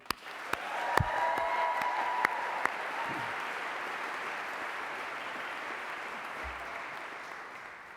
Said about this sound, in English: One more big cheer for them.